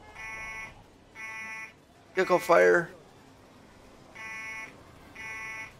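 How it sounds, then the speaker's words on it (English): An alarm buzzer in the Emergency 4 firefighting game, Bushton mod, sounds in four steady, evenly spaced electronic tones, with a short spoken dispatch announcement between the second and third. "Got a box alarm because of it."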